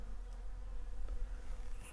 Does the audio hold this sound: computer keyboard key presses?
no